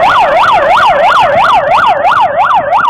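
Ambulance siren wailing in a steady, rapid up-and-down sweep, loud and close, sounding continuously with no talk, dispatched on a rainy, wet road after a crash in Pasig City.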